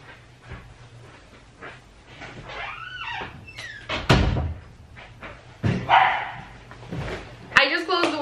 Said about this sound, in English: I just closed the window and he's still barking.